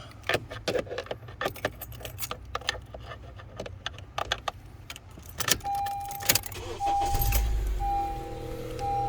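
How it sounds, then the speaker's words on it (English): A Honda CR-V is started with its keys: keys jangle and rattle in bursts, then the engine turns over and settles into a steady idle with a thin electronic tone. "So let me turn the car back on."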